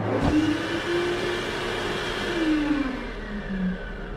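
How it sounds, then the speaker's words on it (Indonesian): An electric hand dryer runs in a toilet, blowing with a steady, loud whirring rush and a slightly wavering hum that continues without pause. "terdengar suara pengering tangan yang sedang ngahiyeng."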